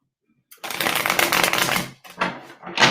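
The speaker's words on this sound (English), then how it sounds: "as I'm shuffling the cards for you" Divination cards are shuffled up close in a few quick riffling bursts, a long rush followed by two shorter ones, after a brief silence and with no talking.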